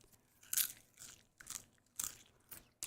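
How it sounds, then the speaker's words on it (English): Someone munching cheese-flavored popcorn close to the mic, with crisp, slightly squeaky crunches landing in five separate bites about half a second apart, quiet in between and no talking. "Maybe you can hear crunch better."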